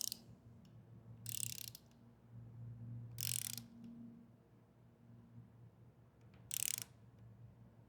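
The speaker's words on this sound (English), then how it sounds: "Go ahead and tighten this up to 12 inch-pounds." Screw on a Lowrance Ghost trolling motor tightened to 12 inch-pounds, three short, crisp bursts of ratcheting clicks spaced a couple of seconds apart, close but quiet over a low steady hum.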